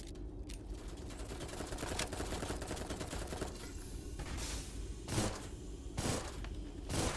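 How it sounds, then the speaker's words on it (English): Sustained video game gunfire with dense overlapping shots and a few louder bursts standing out near the end, over a constant busy backdrop of combat noise. "Who's shooting at me from where?"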